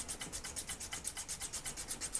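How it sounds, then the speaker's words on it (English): Small hand file rasping along the edges of a plastic piece from an Advanced Dungeons & Dragons Fortress of Fangs toy, in steady back-and-forth strokes at a quick, even rhythm, close and fairly quiet. "So I'm going to file this down around the edges"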